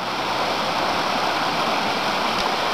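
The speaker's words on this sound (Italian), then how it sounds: "Questa è l'acqua quando è pulita, e qui è sempre pulita" Clear water pouring at a waterfall, a dense, even hiss and rumble that is loud and near for the whole moment, with no speech.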